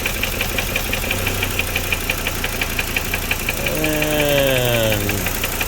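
Engine of a 2008 Hummer H3 running steadily with a fast rhythmic ticking knock, close and constant, the tone briefly rising and falling near the end.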